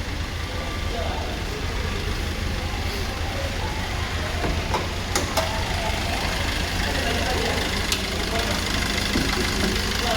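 A used Maruti Brezza car at a dealer, its engine idling with a steady, even hum that continues without a break. A few faint clicks and taps come through over the running engine.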